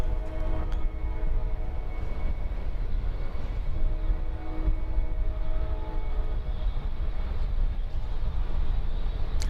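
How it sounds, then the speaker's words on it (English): A JSX Embraer 145 jet arriving at Dallas Love Field at night makes a steady engine drone with a faint whine, heard from a distance with no one speaking. "This looks like another JSX Ember 145 coming in."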